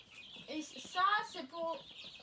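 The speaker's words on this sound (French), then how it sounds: "Il y a 5 poules." Hens clucking inside a henhouse, a small flock of five birds kept for eggs, with short rising calls in a brief burst near the microphone.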